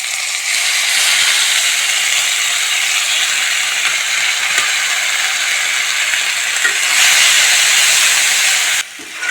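Spice paste for a Bengali-style vegetarian papaya kopta curry sautés in a pan, giving a loud, even sizzling hiss with faint scraping ticks that cuts off abruptly near the end.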